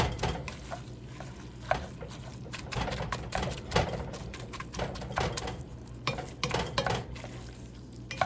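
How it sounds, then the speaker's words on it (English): A spoon stirring browning meat in a cooking pot, with steady sizzling and frying beneath repeated scraping and clattering strokes against the pot, continuous and moderately quiet throughout. "Now I'm going to stir this around a little bit."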